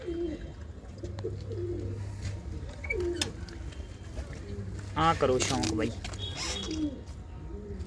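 Pigeons in a loft of nesting holes give low, steady cooing that swells and fades in a couple of stretches, close by, while someone talks over them.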